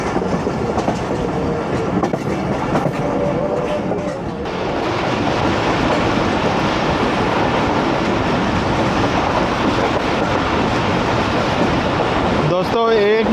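The Awam Express passenger train runs on the Lahore to Peshawar line near Sarai Alamgir. Its loud, continuous rumble and clatter of wheels on rails is heard from inside a carriage, and voices murmur underneath.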